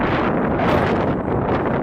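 Strong, steady wind roars and buffets the microphone continuously on a Canada and Alaska cruise, with a dense low rumble and no voices.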